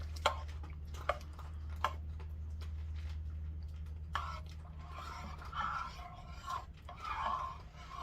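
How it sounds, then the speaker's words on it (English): Quiet, close wet chewing and crunching of dogs eating, with a few sharp clicks at first and then irregular munching bursts over a steady low hum. "If you can hear my dogs chewing in the background"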